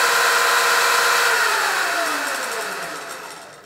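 A Surron Light Bee X electric dirt bike motor in eco mode on the stock battery whines loudly and close, a steady high electric tone that slowly winds down in pitch and volume as it coasts.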